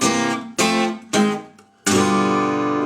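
An acoustic guitar plays a delta blues song: three separate strummed chords with short gaps between them, then a final chord left ringing. The strums are close and bright, with no voices.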